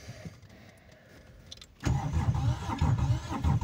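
An Aixam microcar engine cranking and trying to start: quiet rattling and clicks, then the starter kicks in and the small engine churns loudly and unevenly without settling, heard close and alone.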